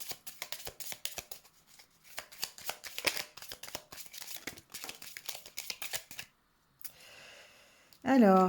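Oracle cards are shuffled by hand in rapid, crisp riffling bursts with short pauses between them, close-up and alone until a voice briefly starts at the very end.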